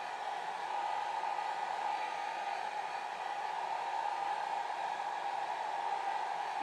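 Hair dryer blowing steadily on alcohol inks while roses are painted, a constant close whooshing whir with no break and no talking.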